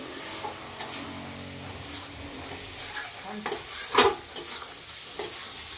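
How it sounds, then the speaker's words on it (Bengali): Fried bottle gourd is stirred slowly in a hot pan, giving a soft steady sizzle with a few scrapes and clinks of a spatula against the metal. "আস্তে আস্তে আমি চালাচ্ছি, যেমন লাউটা না ভেঙে যায়।"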